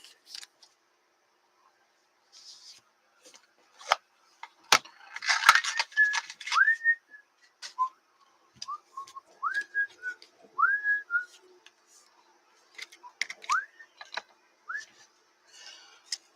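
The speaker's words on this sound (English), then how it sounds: "Just whistling very popular music." A teenager whistles a popular tune at a distance, short rising and falling notes in a broken phrase, quiet and intermittent amid faint clicks and handling noises.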